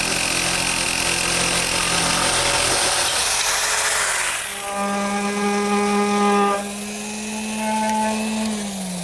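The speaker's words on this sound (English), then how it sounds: "I'm going to use my handheld jigsaw to make both the straight and the curved cuts" A handheld jigsaw saws through a wooden blank for a Shaker wall clock, a loud, close, buzzing motor whine that runs without a break and shifts to a steadier, higher-pitched tone partway through.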